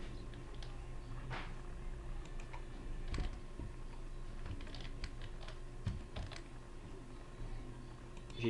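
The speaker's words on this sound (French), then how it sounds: "je tape sur Enter pour sauter des lignes" Computer keyboard keys tapped in scattered, faint clicks against a steady room hum, including presses of the Enter key, with no talk.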